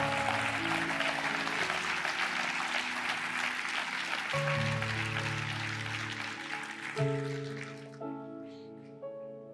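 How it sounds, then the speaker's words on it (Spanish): Church congregation applauding during a sermon, a broad wash of clapping over sustained keyboard chords that thins out and fades while the music carries on. "Dale un aplauso a Dios bendito,"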